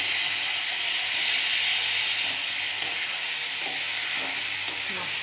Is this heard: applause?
no